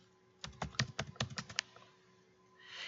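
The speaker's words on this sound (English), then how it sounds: "I'm going to type in guided access" Quick run of about eight crisp keyboard taps entering a search term on an iPad, close and clear, then a pause followed by a soft rising hiss.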